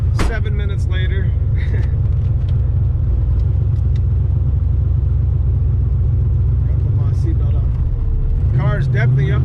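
A modified street car's engine rumbles steadily from inside the cabin during a relaxed drive, a deep continuous drone with brief bursts of a voice talking at the start and end.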